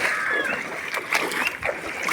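Floodwater rushes and splashes through Jawainiya village, a steady loud churning wash with irregular sloshing bursts close by, with a voice faintly present underneath.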